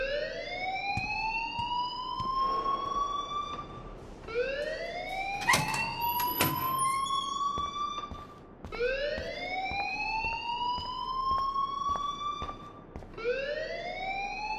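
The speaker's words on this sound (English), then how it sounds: "please turn off that alarm since that's your job" Repeating electronic alarm in the video game Life is Strange, rising whoops sounding in regular cycles of about four seconds, loud and continuous with faint background clatter and no talk.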